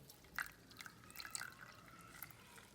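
Quiet trickle and drip of pond water pouring into a container, small splashes and bubbly plinks at irregular intervals, faint and close.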